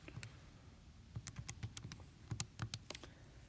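Calculator keys are tapped in a quick irregular string of light clicks as numbers are entered, close and quiet with no voice.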